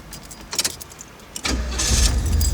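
A Chevy 350 V8 with low oil pressure gets cranked after cooling down, a few clicks and a brief churn leading into a sudden catch at about one and a half seconds, then a loud, steady idle rumbling close by.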